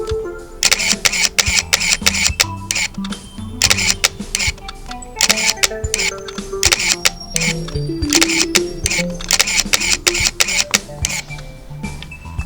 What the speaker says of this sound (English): The shutter sound is not quiet. I would rather say it is as loud as a cassette player.